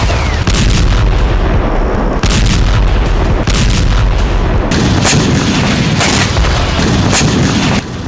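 Russian missile strikes in Ukraine set off a continuous barrage of heavy booms and blasts, loud, close and dense, with sharp cracks layered over a rumbling roar and no speech.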